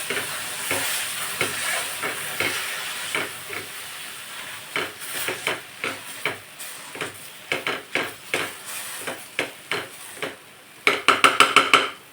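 Roasted small tomatoes, garlic and chillies being crushed with a hand masher, a steady run of soft squelching thuds and scrapes against the pan, growing into quicker, sharper knocks near the end, with no talking.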